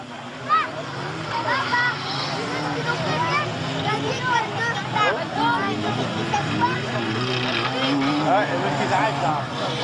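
Stock car engines roar and whine continuously, revving up and down as several cars pass during a race at Saâne-Saint-Just, with a busy crowd-like din and voices mixed in.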